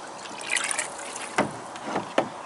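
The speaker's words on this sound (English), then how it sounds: "this water's filling up really fast" Water trickles and splashes into a newly built garden pond, a faint steady running sound broken by a few brief louder splashes.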